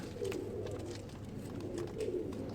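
Ferozpuri and golden pigeons cooing in a loft, soft low throaty coos repeating in a couple of short phrases, fairly faint and close, with no talk over them.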